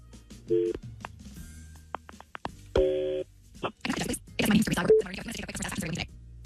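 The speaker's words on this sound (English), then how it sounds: "Let's make the phone call and set the trap." A phone call is placed: short dialing tones beep in separate bursts, then a sustained tone, followed by handling clicks and soft rustling noises up close.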